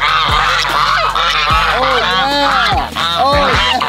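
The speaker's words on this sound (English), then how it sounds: "My geese are so friendly." Geese honk loudly in a backyard flock, repeated overlapping calls in quick bursts close to the microphone, with no talk.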